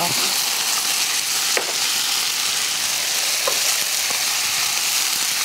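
Tuna and onion frying in a pan with a seasoning sauce, a steady loud sizzle throughout with a few brief stirring knocks.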